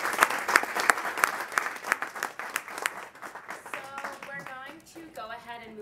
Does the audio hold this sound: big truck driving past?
no